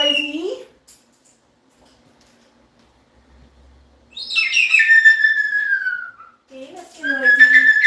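A pet bird chirps and whistles noisily in bright, sliding calls, a burst at the start, a long loud run after a pause, then another close whistle.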